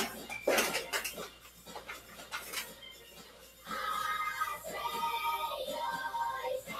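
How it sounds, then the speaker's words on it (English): A dish going into a home oven: close clinks and clatters of cookware and metal racks, followed by a steadier clattering stretch with what sounds like music or singing faintly underneath. "I'll put this on the bottom of the oven."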